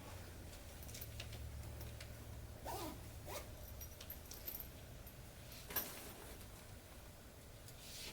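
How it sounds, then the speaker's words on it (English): A zipper runs along a sewn fabric Flipping Out bag as it is closed, a couple of quick rasping pulls with faint jingling of the pull, close and quiet over a soft room hum. "And they zip right up just like this"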